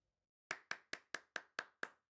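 Eight crisp, evenly spaced hand claps ring out in Lorelei and the Laser Eyes after a moment of near silence, each one sharp and short, close and fairly quiet, with no voices.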